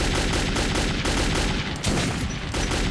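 Sustained gunfire in the video game Metro 2033, a dense, loud barrage of rapid shots filling the whole stretch with only a brief dip near the end.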